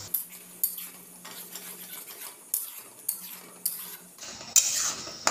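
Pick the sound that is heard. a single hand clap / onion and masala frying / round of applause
onion and masala frying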